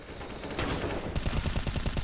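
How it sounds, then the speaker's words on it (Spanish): Rapid automatic gunfire rattles through a Counter-Strike: Global Offensive match, first as a dense steady roar and then as a quick, loud string of distinct shots with no talking. "Le tiré 400 tiros a la cabeza y ni uno."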